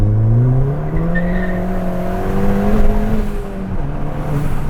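A tuned Ford Fiesta ST with a stage 2 upgrade of about 250 bhp revs hard, its engine note climbing and sagging, loud and close throughout.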